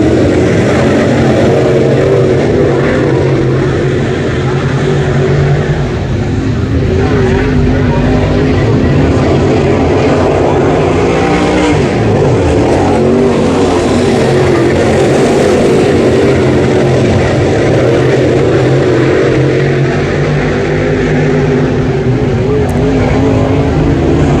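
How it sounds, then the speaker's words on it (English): Dirt track race cars roar off the green flag for an eight-lap race at Brownstown Speedway, a dense, continuous engine drone that swells and shifts as the pack circles, loud and steady throughout. "Here we go, green flag out. 8 laps of distance, Britton Godsey pulling out front."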